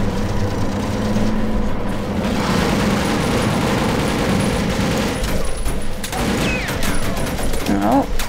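Enemy gunfire rattles in bursts during a TimeShift firefight, loud and close over rumbling engine and mechanical noise, with a player talking over it.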